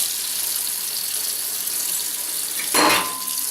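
Hot water runs from a tap over a glass beer bottle, a steady close hiss that swells into a louder splashing burst near the end.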